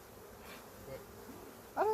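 A low, steady hum of bees buzzing around an open hive during an inspection, faint and continuous, ending with a brief louder sound.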